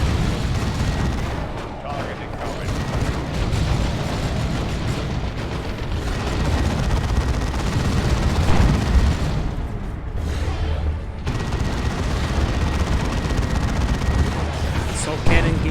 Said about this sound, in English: Does receive a rocket hit there.